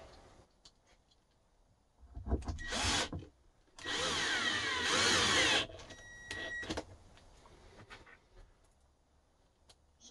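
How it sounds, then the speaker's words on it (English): A power drill driving screws during a loudspeaker cabinet restoration whirs in two bursts, a short one then a longer sustained run, with quiet handling clatter and pauses between. "If I can find my drill."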